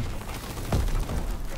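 Sniper rifle fire in the World War II shooter Call of Duty WW2, a single sharp shot near the middle of a short burst of game noise, with no speech.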